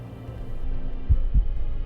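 Two low, muffled thuds of a heartbeat sound effect in a tense horror scene, a pair of beats about a quarter second apart rising over a dark, droning hum, with no voices.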